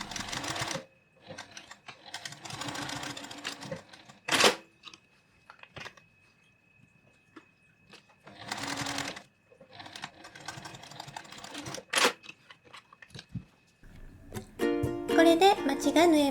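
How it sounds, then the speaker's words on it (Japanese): A home sewing machine stitches along a drawn line on a small fabric drawstring pouch, whirring in several close, rapid bursts separated by pauses, handling clicks and a short snip. "次に今引いた線の上を縫います。"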